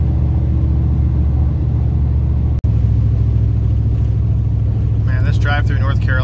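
A car driving along winding roads in North Carolina, a steady low engine and road rumble heard from inside the cabin, with someone talking over it.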